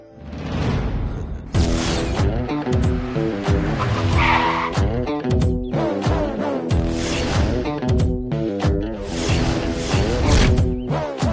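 A vehicle skids and its tires squeal as it is forced to halt on a roadway in a Tamil TV serial scene, the loud screeching sustained across several seconds with no talk over it.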